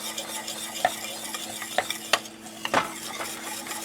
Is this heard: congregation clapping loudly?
no